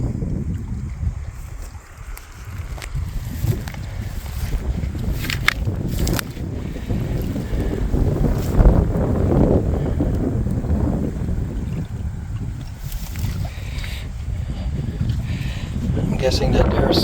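Strong wind buffets the microphone throughout at a wreck site near the water beside a crashed United States Air Force plane in Newfoundland, a loud continuous roaring rumble with gusting surges and no talk.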